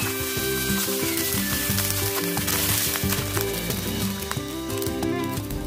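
Ginger and lemongrass sauté in a hot pan for sweet and sour patin fish, giving a loud, steady sizzle and crackle, with cooking music playing underneath throughout.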